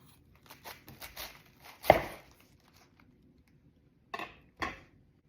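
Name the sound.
knife cutting the core out of a cabbage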